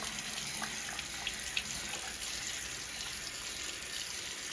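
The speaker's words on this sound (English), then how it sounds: "Wet my hands, making sure not to touch the bowl at any point." Running tap water splashes over hands as they are wetted at a sink, a continuous gentle gushing hiss with faint irregular splashes, moderately quiet and steady throughout, with no speech.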